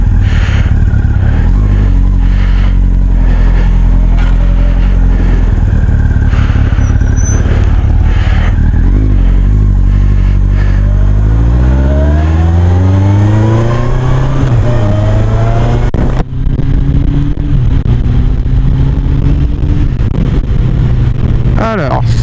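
A 2002 Yamaha Fazer 1000 motorcycle revs up hard on a road, pitch climbing steadily as it accelerates, loud and close, with a voice talking over it at times.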